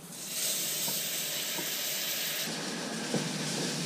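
Browned flour sizzles and fries in a pan as cream goes in and the sauce is stirred, giving a loud, steady hiss with a few soft scraping taps of the utensil and no talking.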